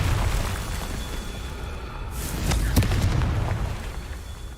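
The Confringo blasting spell from Hogwarts Legacy erupts in a booming burst with a sharp crack at its peak, set against constant game background noise.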